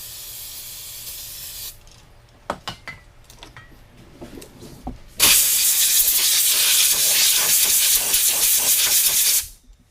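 Brake cleaner is sprayed onto a Yamaha Grizzly Kodiak 450 ATV engine, giving a long, loud, close hissing blast of about four seconds after a few shorter spurts and handling clicks.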